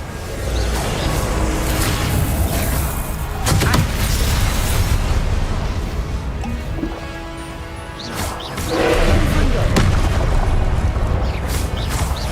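A fire spell cast in the video game Hogwarts Legacy, heard as loud whooshing bursts and booming impacts over dense game noise, with a couple of strong blasts standing out.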